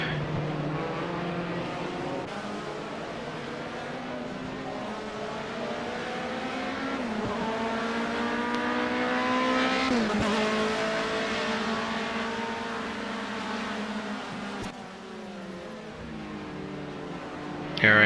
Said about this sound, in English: Here I am on a big power slide because really, like I said, the tires are heating up so bad.